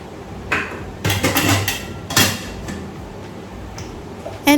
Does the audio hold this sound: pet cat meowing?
no